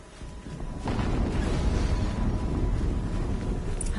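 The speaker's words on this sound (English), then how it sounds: "Another explosion." An explosion in Horizon Zero Dawn erupts after a short lead-in and continues as a heavy, sustained low rumble and roar.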